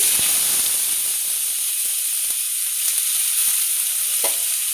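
Grated potato dropped into hot oil in a pan gives a loud, steady sizzling hiss, with a few light scrapes and clicks of stirring throughout.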